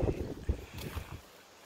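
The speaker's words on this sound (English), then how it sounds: "It's very windy." Gusty wind blowing outside a barn being prepared for goats, a broad rushing noise with low buffeting rumbles that ease off toward the end.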